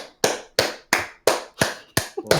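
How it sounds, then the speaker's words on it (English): Seven sharp hand claps at a steady, slightly quickening beat, loud and close, each ringing briefly before the next. "clap your hands for 5 seconds"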